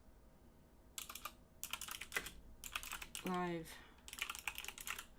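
Close bursts of computer keyboard typing in several quick runs separated by pauses, with a brief spoken word between them.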